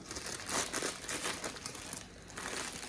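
Transparent wrapping paper crinkles in continuous broadband rustling bursts as a product is unwrapped, loud and close with a brief lull near the end, no voices present.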